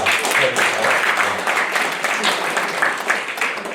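Applause at the closing of the 7th Proud Washingtonian award ceremony held by the Potomac Korean Forum, a fairly close, fluctuating patter of many hands lasting a few seconds.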